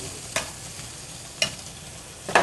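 Bouillon simmers and reduces in a saucepan with a faint, steady hiss, broken by three brief scraping stirs at regular intervals, heard close with no talking.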